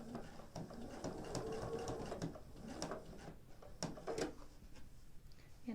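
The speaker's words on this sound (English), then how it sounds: "what I'm going to do is sew around it twice" A sewing machine stitches around a raw edge fabric appliqué, a soft, fairly quiet mechanical whir with light rhythmic clatter running steadily at close range and no talking.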